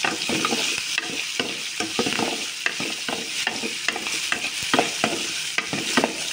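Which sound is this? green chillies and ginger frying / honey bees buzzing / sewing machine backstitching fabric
green chillies and ginger frying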